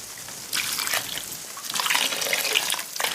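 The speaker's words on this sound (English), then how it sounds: "And now some vegetable broth." Vegetable broth poured into a cooking pot of tomato-based sauce, a steady liquid splash and trickle that swells and continues at moderate loudness with no voices.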